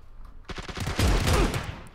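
Gunfire in the video game PUBG ending in a headshot kill: a quick burst of sharp shots followed by a dense rattle of loud, close fire that carries on for over a second.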